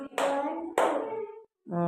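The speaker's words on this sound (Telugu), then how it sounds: "2 క్లాప్స్ కొట్టమ్మా" A child claps hands twice, two sharp, close, loud claps about half a second apart, followed by a brief silence and the start of a voice.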